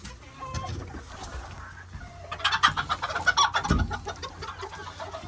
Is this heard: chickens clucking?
yes